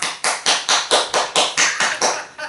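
Party poppers or crackers being popped at a small home birthday greeting, a rapid series of about ten sharp, loud bursts in even rhythm, close and with no talking.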